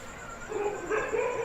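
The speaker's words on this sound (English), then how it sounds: "Dogs prowl the village streets" Dogs in a village at night give a few short, distant barks and whining yips over quiet ambient night air, with no talking.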